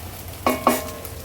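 Onion cooks in a pan for a traditional Bhogi mixed vegetable dish, with two short, close scrapes of a spoon stirring over a soft, steady sizzle.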